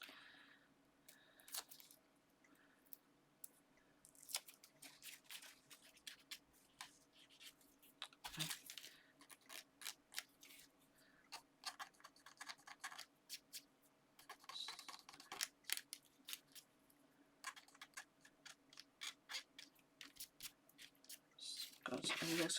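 Scissors trimming a snowman Christmas card topper made of paper, with sharp snips and rustles of the paper spread through the clip, close and fairly quiet, plus a faint background hum.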